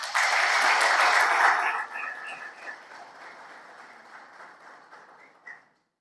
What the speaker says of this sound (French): je pense que vous pouvez vous accorder un crédit d'applaudissement